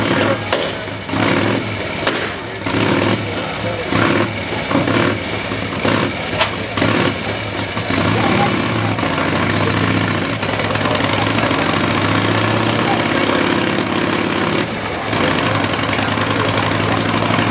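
Motorcycle engines running at a time-trial show in an arena, a loud continuous roar with rhythmic revving pulses at first, then a dense sustained drone, close and without talk.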